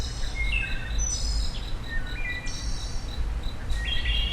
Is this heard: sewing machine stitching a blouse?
no